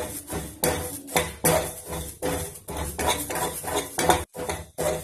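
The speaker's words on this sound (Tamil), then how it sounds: "இதுவுமே ட்ரை ரோஸ்ட் தான் செய்யணும்" Coriander seeds dry roasting in a pan without oil, a close rapid rattle and scrape as they are stirred, with repeated clinks of a spoon against the metal.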